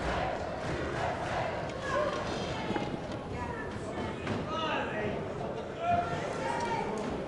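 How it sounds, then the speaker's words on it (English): Crowd at a Mosconi Cup pool match shouting and cheering encouragement in a lively hall, a continuous mix of voices and calls, with commentary spoken over it. "Crowd is encouraging Shane."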